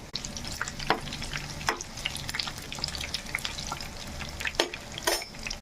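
Garlic, cumin, mustard seeds and dried chillies fry in oil for a drumstick pickle tempering, giving a steady crackling sizzle with sharp pops and occasional stirring scrapes, fairly close, with no one talking.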